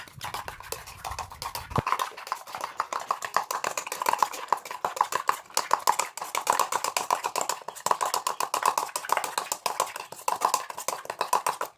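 Eggs being whisked in a bowl with chilli powder, turmeric, garam masala and salt for a masala omelette, a fast steady rhythm of utensil beats against the bowl, close and continuous, with no talk.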